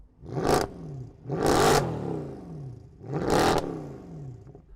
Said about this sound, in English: Let's have a listen to the old C63.